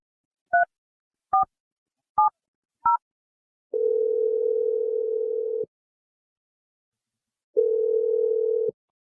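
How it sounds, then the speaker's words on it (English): A phone call being placed to a radio show: four short keypad dialing beeps in quick succession, then two long, steady ringback tones separated by a pause. The tones are clear and loud, with no talking. "I'm dialing her right now."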